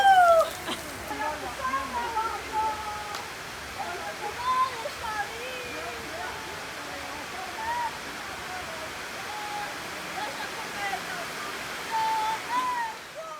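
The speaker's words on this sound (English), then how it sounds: "It suddenly started downpouring" A sudden heavy rain downpour outside a restaurant at night in Fortaleza, Brazil: a steady, dense rush of falling water that fills the whole stretch, with voices and scattered higher calls over the top.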